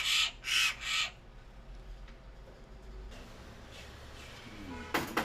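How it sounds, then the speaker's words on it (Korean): A jay recovering at a bird rescue centre gives three harsh, loud calls in quick succession at the start, then a quieter stretch of faint background noise with a brief sharp sound near the end. "탈진으로 쓰러져 있었다는 어치는 이제 제법 기운을 차렸다."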